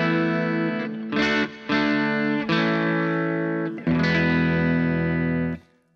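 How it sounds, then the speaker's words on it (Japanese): An electric guitar played through light amp-style overdrive rings out in sustained, slightly gritty chords, struck about five times and left to ring, loud and close, ending with a quick fade. "このぐらいの歪みです。"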